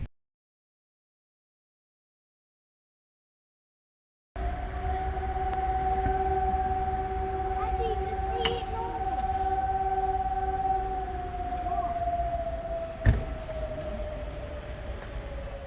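A long, steady civil defense siren test wail in La Rochelle, France drones over background rumble, holding one pitch before sliding lower, with a brief thump near the end.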